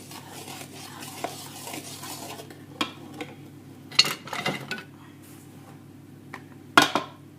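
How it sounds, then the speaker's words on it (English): Chocolate brownie mixture stirred in a bowl, a soft continuous scraping swirl broken by sharper knocks and clinks of the utensil against the bowl's side, close and fairly quiet with no talk. "So I tend to add this in just gently to begin with and stir it around a bit."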